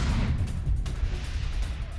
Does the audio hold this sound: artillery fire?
yes